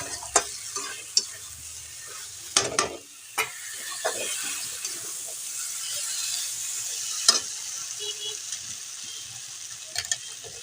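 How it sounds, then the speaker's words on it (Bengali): Spiced koi fish curry with vegetables frying in a pan, a quiet sizzle under scattered spatula scrapes and taps against the pan, close and fairly soft. "তো এটাকেও ভালো করে একটু কষিয়ে নেবো চাপা দিয়ে দিয়ে কষিয়ে নেবো"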